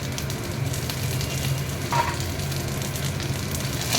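Chowmein frying and being tossed in a pan, giving a steady, dense sizzle throughout with a faint scrape of turning partway through, no voices.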